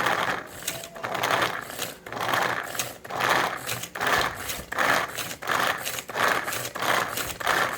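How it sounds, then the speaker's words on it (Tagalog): A food processor grinds carrots in a burst of short, even motor pulses, each about half a second long with brief gaps. The whirring is steady and fairly loud, with no talking. "Ilagay natin yung carrots sa food processor, then gilingin."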